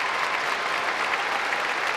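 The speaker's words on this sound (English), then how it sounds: "his coach applauds" An arena crowd applauds steadily and loudly after a men's short program at the Rostelecom Cup figure skating event, a continuous wash of clapping without a break.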